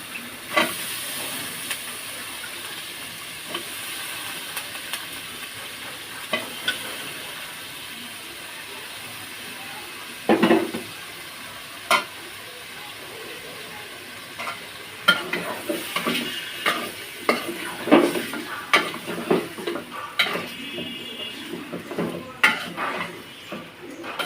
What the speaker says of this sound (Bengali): এখন মাংসটা দিয়ে দিচ্ছি।